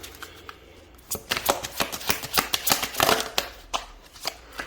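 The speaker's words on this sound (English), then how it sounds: "I'm going to put them back in and shuffle." Oracle cards riffled and shuffled in a rapid burst of crisp slaps and flutters after a quiet start, close by.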